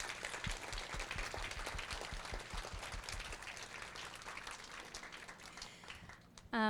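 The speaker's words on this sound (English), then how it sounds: "if you can just join me in giving Kelly another round of applause" An audience at a women's lunch event claps in sustained applause, dense and steady for several seconds before tapering near the end.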